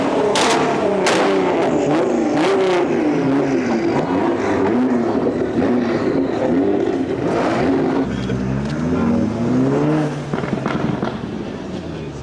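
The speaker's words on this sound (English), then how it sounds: "everyone is warming up their cars, heating it up" Cars at a car meet at the Jeddah F1 circuit warm up and rev their engines, with repeated loud revs and sharp crackling pops alongside a sustained mixed engine drone.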